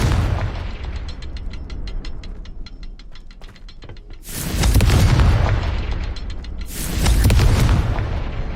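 Confringo blasting spell from Hogwarts Legacy going off as two loud, booming explosions a couple of seconds apart, following a stretch of rapid clicking and ticking mechanical sounds.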